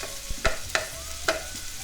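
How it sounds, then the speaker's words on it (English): Prosciutto sautéing in a hot pan and being broken up, a steady sizzle punctuated by three sharp utensil taps and scrapes against the pan, close by. "And now we're going to go in with our prosciutto. I'm just going to saute that, break it up"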